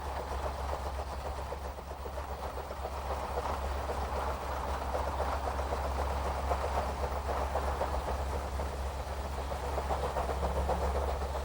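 A Rhaetian Railway train rattles along the Albula Line through Swiss countryside, giving a steady, close rolling rumble with a low droning hum underneath that holds for the whole stretch, with no voices.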